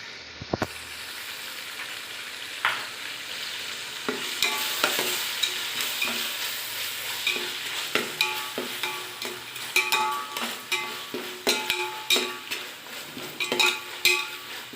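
Ginger garlic paste fries in hot oil for chicken biryani, with a steady sizzle and repeated scraping stirs and utensil clinks. The stirring becomes busier toward the end. No one speaks.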